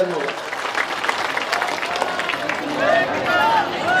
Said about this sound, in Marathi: जोरदार टाळ्या मारा सर्व शेतकरी मंडळी